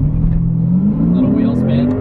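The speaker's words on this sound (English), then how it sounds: "Little wheel spin." A Lexus RC F accelerates hard with some wheel spin, its engine note climbing steadily and loudly from inside the cabin while a person talks over it.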